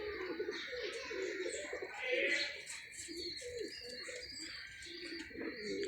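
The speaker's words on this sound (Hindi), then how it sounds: "कबूतर क्या होता है, कबूतर कौन सा छोड़ा जाता है।" Pigeons on a rooftop coo repeatedly in low, throaty rolling calls, with faint chirps and background voices mixed in throughout.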